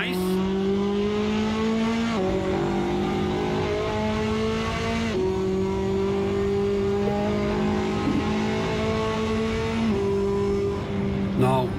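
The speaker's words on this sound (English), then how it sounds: "Better exhaust sounds. Nice sounding car." A Ferrari engine in the racing game Assetto Corsa revs loudly and steadily, its exhaust note climbing through the gears with sharp drops at each upshift, continuous and close throughout.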